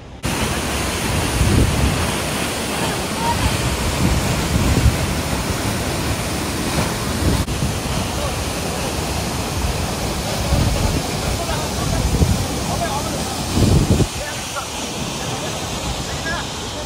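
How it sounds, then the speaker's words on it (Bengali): Changey Falls in Kolakham roars steadily nearby, a dense, continuous rush of falling water that stays loud and even throughout, with no clear voices over it. "ছাঙ্গে ফলস"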